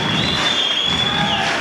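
Crowd of about 1,500 French spectators in a weightlifting hall at a world championship cheering a struggling woman lifter, a loud sustained roar with whistling, close and continuous.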